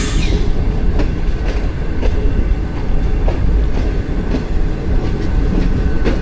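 A Pakistan Railways express train passes right alongside, giving a loud, steady rolling rumble with a regular rhythm of wheel clacks over the rail joints. No one speaks over it.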